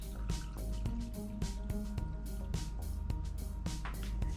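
A water, vinegar, sugar and salt brine is poured from a bowl into a jar of onions, giving a steady, faint trickling and splashing with small drips and clinks throughout.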